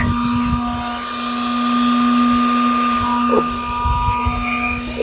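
A 12 volt 775 DC motor drives a metal water pump, giving a steady, loud mechanical whine with a constant hum throughout, alone without talk.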